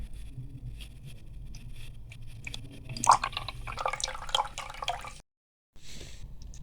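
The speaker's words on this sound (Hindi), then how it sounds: "अब इसको अभी हम पानी की मदद से निचोड़ लेंगे।" Tamarind pulp squeezed by hand with water through a strainer while making imli chutney gives wet, dripping, squelching sounds that swell into a busier splashing stretch, then stop abruptly for a short silence.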